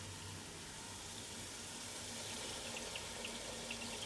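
Water poured from a jug into a pot of aloo choley curry, a soft, steady, fairly quiet trickling wash that runs continuously without a break.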